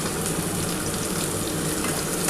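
Tomato and slit green chillies frying in hot oil in a pan, a loud, dense, continuous sizzle with no voices.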